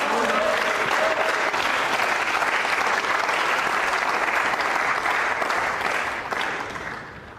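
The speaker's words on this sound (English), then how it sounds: "Round of applause from the crowd." A crowd watching a billiards match applauds a difficult 9-ball shot. The clapping is loud and sustained, then fades away in the final second.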